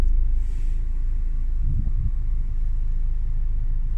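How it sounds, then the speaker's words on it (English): A diesel car's engine idles quietly in neutral, a low steady rumble close by with no talking over it. "our diesel car usually is very noisy, and now it's very quiet"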